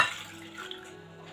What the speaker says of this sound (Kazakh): Ең алдымен жылы сүтімізді құйып аламыз.